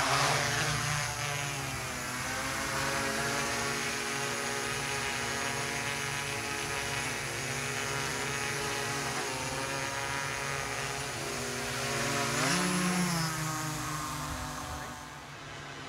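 Walkera Voyager 5 drone with a 30x zoom camera in flight, a sustained buzzing rotor whine whose pitch rises and falls gently as it manoeuvres, swelling near the end, with no voices over it.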